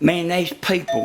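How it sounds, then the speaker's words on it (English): A home doorbell set off when a gate swings open in strong wind chimes in sustained ringing tones, close and moderately loud, under someone talking throughout. "that's my doorbell there."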